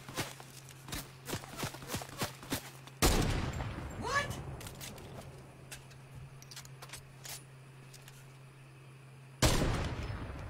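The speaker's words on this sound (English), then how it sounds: "He's still shooting me." Video-game gunfire crackles in quick bursts of sharp shots, with two loud, dense volleys that blast in abruptly mid-clip and again near the end over steady game background sound.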